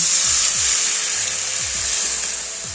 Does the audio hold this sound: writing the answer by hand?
no